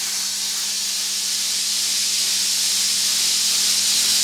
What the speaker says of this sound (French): Vous allez voir que l'eau tombe.